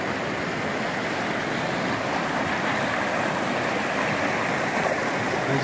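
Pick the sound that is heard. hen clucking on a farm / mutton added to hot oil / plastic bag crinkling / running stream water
running stream water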